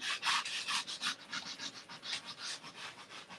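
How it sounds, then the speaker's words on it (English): A sander works around the edges of a mixed-media scrapbook paper layout, giving quick rhythmic back-and-forth rasping strokes, close and fairly quiet, with no talking. "And I'm going to sand around the edges."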